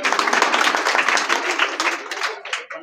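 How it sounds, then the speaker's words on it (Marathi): A school audience at a Shivaji Maharaj Jayanti celebration claps for prize winners, a dense burst of many hands that goes on for a few seconds and then thins out toward the end. "टाळ्या वाजवून स्वागत करा."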